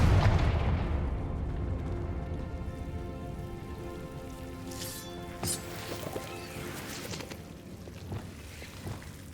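A Confringo fire spell from Hogwarts Legacy bursts with a loud, deep explosion at the start, then a long crackling, rain-like fizzle of debris that fades, with a few smaller pops later on.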